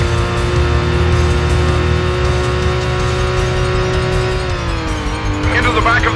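Car engine in the 2002 PS2 stunt-driving game Stuntman: a loud, sustained drone whose pitch dips near the end, followed by a brief squeal of skidding tyres.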